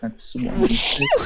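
A single quick, sharp sneeze bursts out mid-sentence during a tabletop role-playing game session, close to the microphone and tangled with a player's talk.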